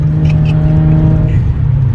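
A car engine revving hard during a street race, a loud steady mechanical drone with a strong whining tone held close and unbroken throughout.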